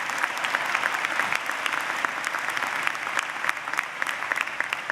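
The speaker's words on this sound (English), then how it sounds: "give another round of applause to those great student speakers" A commencement audience applauds steadily throughout, a dense patter of many hands clapping in a large hall with no pauses.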